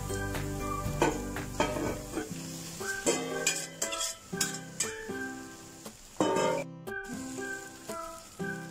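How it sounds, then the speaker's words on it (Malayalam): Egg noodles with vegetables and egg being stirred in a pan, with repeated scraping and clinking of a spoon against the metal over a soft sizzle, close and moderately loud, with no talking. "പതുക്കെ ഇതിലോട്ടൊന്ന് ഇളക്കി കൊടുക്കാം"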